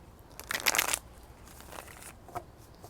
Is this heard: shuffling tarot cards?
yes